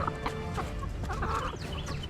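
A flock of backyard egg-laying chickens clucks and murmurs continuously up close, overlapping calls rising and falling without a break, and no voices.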